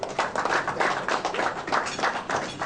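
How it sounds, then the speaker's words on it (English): Crowd applause at a 2008 public gathering in Ghana, a steady wash of many hands clapping at moderate level with a fairly even, continuous texture throughout. "A round of applause for Her Excellency Hajia Zainab Nyamshikwaya"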